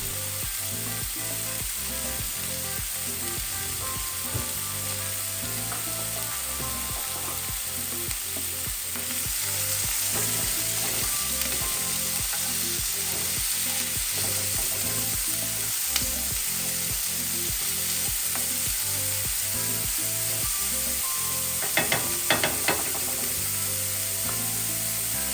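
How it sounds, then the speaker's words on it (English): Beet green stems sautéing in a hot pan with red pepper flakes, a loud, steady sizzle and crackle running throughout, with occasional stirring scrapes and a brighter burst of spitting late on. "I'm going to add the stems and let them saute, I don't know, for maybe about 4 to 5 minutes"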